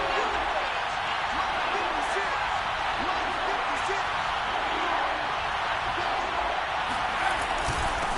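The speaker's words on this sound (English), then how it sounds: "The crowd here in the Dome making things difficult." Stadium crowd roar in an American football video game, Chiefs at Saints in the Dome, a steady loud wash of crowd noise throughout with no talk over it.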